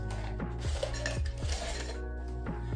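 Ice cubes dropped into a cocktail shaker for a lemon-drop-style mocktail give a few sharp clinks and knocks against metal and glass, close and clear, with no talking.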